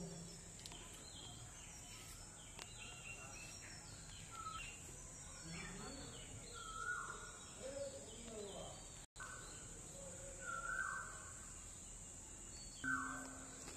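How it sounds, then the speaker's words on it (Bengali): Faint birds chirp and twitter intermittently in a quiet, deserted outdoor setting by a Shiva temple in Mihijam, near Chittaranjan, with a steady high insect drone underneath. "শুধু পাখিদের কিচিরমিচির শোনা যাচ্ছে।"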